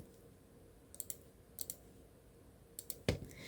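A few faint, sharp clicks come in small clusters over a quiet room hum, ending with one louder click.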